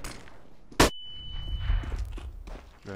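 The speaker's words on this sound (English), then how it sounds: "Throwing flashbang" A flashbang grenade goes off in CS:GO as one sharp, loud metallic bang, followed by a thin, steady high ringing tone over low footsteps and background game noise.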